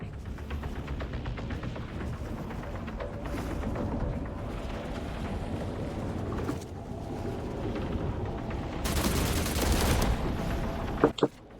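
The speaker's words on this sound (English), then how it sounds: "Out of rifle fire." Rifle fire in the survival game The Last Caretaker rattles in a steady, dense stream for most of the clip, loud and close, swelling into a harsher burst near the end before cutting off with a couple of sharp cracks.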